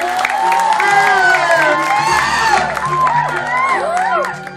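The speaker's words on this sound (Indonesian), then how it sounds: "Tepuk tangan, tepuk tangan." Audience at a Balinese Calonarang comedy performance at a Pura Dalem temple claps and cheers, with whoops and shouts rising over a dense crowd din, steady and loud throughout, with voices calling out.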